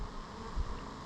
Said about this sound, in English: You see all the bees around? Yeah, they're swarming